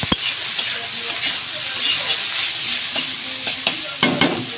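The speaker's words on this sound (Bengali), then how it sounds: "দিয়ে এবার এটাকে আমি ভালো করে নাড়াচাড়া করব" Flattened rice pulao (chire pulao) being stirred in a frying pan, a steady sizzle under repeated scraping and clinking of a spoon against the pan, close and fairly loud with no talk.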